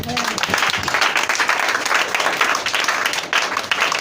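A church congregation at a French-language worship service claps and cheers, with dense, sustained applause filling the space throughout, and a voice briefly audible at the start.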